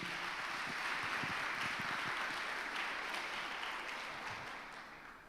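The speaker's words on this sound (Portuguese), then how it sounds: "Aplauda ao Senhor mais uma vez." A church congregation applauds during a communion service, a dense, loud wash of clapping that holds steady and then gradually tapers off.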